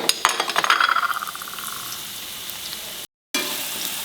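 Onions fry in three to four spoons of hot coconut oil for a red masala egg curry: a bright sizzle with rapid utensil scrapes and clinks at first, settling into a steady hiss.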